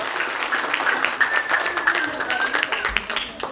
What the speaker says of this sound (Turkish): Onu da bir alkışlamanızı istiyorum.